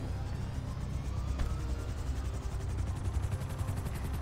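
A helicopter in Grand Theft Auto V drones with a low, thumping rotor rumble and steady engine whine, running continuously at close range.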